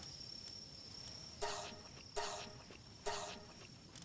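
Crickets chirp in the Palworld video game, a faint steady high trill under three evenly spaced brighter bursts of chirping.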